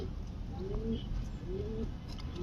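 A Giribaj pigeon gives soft rising-and-falling coos, a few drawn-out calls spaced apart, fairly faint over a steady background hiss.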